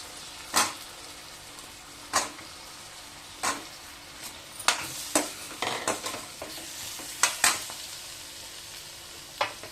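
Radish being sautéed with onion and tomato in a pan, with a steady sizzle of frying under repeated sharp scrapes of a stirring spoon, irregularly spaced and close up.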